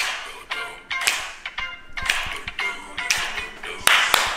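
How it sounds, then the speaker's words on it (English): Hands clapping along to an upbeat tune, sharp claps landing roughly every half second, some in quick doubled pairs, close and distinct over quieter music. "Double clap."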